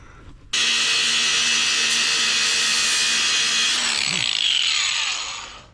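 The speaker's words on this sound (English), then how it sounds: "I gotta get in here with the grinder and clean up a little spot so I can weld that tab on" An angle grinder cleans up a spot of metal on a bike frame, spinning up abruptly into a loud, steady high-pitched whine that holds for about four seconds, then shifts pitch as it bites in and winds down.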